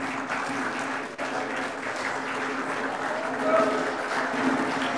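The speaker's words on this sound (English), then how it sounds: "receive a round of applause" A church congregation applauds its grandparents, a steady wash of many hands clapping throughout, moderately loud and even, with a faint voice underneath.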